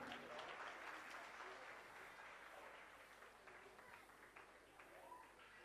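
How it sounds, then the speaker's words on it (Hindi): An audience at a Hindi honoring ceremony applauds steadily, a broad wash of clapping heard faint and distant throughout, with some crowd murmur under it. "जोरदार तालियां"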